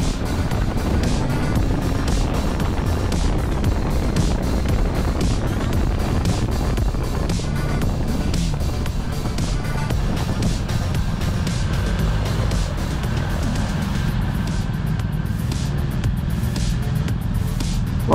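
BMW S 1000 XR motorcycle on a demo ride, a loud continuous engine drone heavily buffeted by wind rushing over the microphone, with no clear gear changes.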